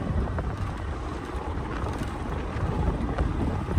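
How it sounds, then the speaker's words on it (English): Strong wind buffets the microphone in a constant low roar and rumble, close and loud throughout, on a dirt road, with no other sounds standing out. "Sorry about the wind, it is very windy out here."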